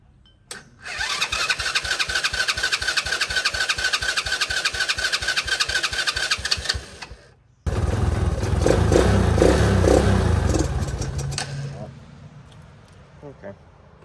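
A four-wheeler ATV engine catches after a quick crank and idles with a steady, rough putter, cuts out briefly, then fires again and runs louder and fuller before dying away.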